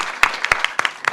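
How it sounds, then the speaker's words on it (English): Brief scattered applause from a summit audience, a handful of distinct claps close by, sparse and uneven over a second. "a round of applause, please, for Agents of Change"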